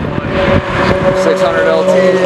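A McLaren 600LT sports car engine holds a steady, loud hum on a racetrack, its tone shifting slightly while people talk over it throughout.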